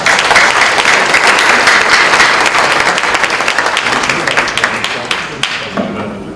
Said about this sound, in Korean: 박수로 환영하십니다.